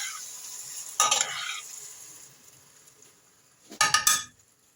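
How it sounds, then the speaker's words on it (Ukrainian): Grated tomatoes are poured into a pot of spicy eggplant vegetable stew and stirred in, heard as two short bursts of wet splashing and scraping over a faint steady sizzle, close by with no talking. "я натерла помідори на терці і виливаю все і розмішую"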